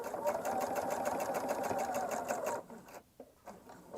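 A sewing machine stitches a blouse seam in a rapid, steady mechanical whir for about two and a half seconds, then stops, leaving quiet handling noises.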